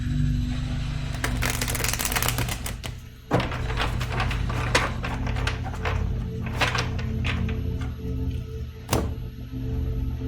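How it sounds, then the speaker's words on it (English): A deck of tarot cards being shuffled up close, a run of papery riffles and soft slaps with a few sharper thumps as the cards settle, steady and fairly loud with no talking. "Give it a couple extra shuffles."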